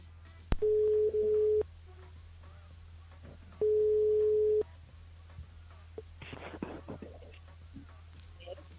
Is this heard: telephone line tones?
yes